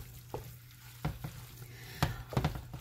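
Ground beef frying in a pan for a Fil-Am spaghetti sauce is stirred, a quiet steady sizzle broken by several soft scraping knocks of the utensil, close and low in level.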